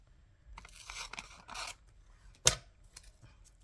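Scissors snip and rustle through paper for a collage, quiet and close, with a few crunchy cuts and one sharp snap partway through.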